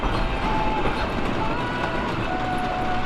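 The Little Dipper roller coaster train at Camden Park amusement park rolls steadily along its track, a continuous rumbling roar with faint squealing wheel tones, over a busy outdoor background.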